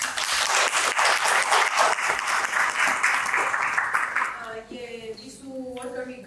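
Audience applause from a crowd, dense and steady for about four seconds before thinning out, with a voice starting to talk as the clapping fades.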